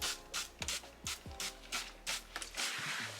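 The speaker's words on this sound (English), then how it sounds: "Lastly, I'm just gonna spray my sink down." Several short hissing sprays from a spray bottle aimed at a spa room sink repeat in quick bursts, close by, with faint knocks and handling sounds between them.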